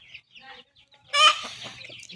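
Free-range desi hens and chicks on a farm give faint scattered clucks, then a louder burst of squawking clucks up close, followed by quieter calls.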